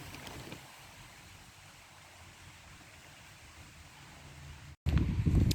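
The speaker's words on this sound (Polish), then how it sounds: "ta kukurydza tak faluje na wietrze, no i robi taki wielki, wielki szum" A maize field sways in the wind, producing a steady, broad rustling hiss that sounds much like distant surf. A sudden louder burst of noise cuts in near the end.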